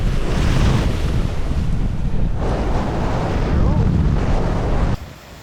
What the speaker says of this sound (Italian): ormai c'è vento e anche un po' di onda, schiuma